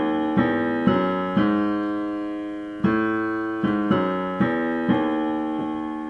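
Left-hand piano part of the song: a handful of low chords struck one by one and left to ring and decay, close and clear with no voice over them.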